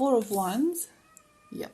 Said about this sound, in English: my cats are acting up again